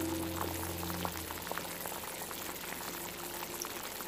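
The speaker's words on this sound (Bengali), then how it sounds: "এখন আরো 5 মিনিট এইভাবে হাই ফ্লেমে ফুটিয়ে নেব তরকারিটা" Fish curry with potatoes and green tomato bubbles vigorously on high flame, a dense, continuous boiling burble with occasional pops, no talking.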